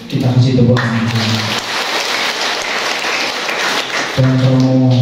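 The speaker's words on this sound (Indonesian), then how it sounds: "Kita kasih tepuk tangan." Applause from a congregation at a church mass welcoming two bishops, a steady wash of many hands clapping for several seconds between spoken remarks, with a voice heard before and after.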